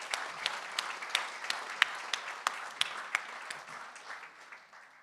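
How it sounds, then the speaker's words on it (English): Applause from an audience at a Cape Racing and Cape Breeders awards evening, moderately distant, with a steady wash of many hands and a few sharper individual claps standing out, fading slightly toward the end. "acknowledge the entire team at Cape Racing with a round of applause"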